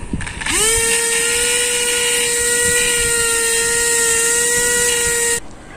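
The motor of a DIY foam-sheet RC jet plane spins up into a loud, steady high-pitched whine, holds for several seconds close by, then cuts off abruptly.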